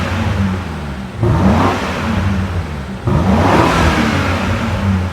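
A BMW G90 M5 fitted with a new Milltek axle-back exhaust revs loudly and close by. Two sharp throttle blips rise over a steady deep rumble and settle between them, with no talking.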